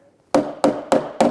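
A hammer strikes the shelf handles of a Griot's Garage Ultimate Detailing Cart four times in an even rhythm, each blow a sharp, close knock with a brief ring.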